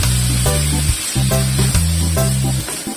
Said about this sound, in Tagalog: Importante na halo-haloin natin guys. Hanggang siya ay pumula.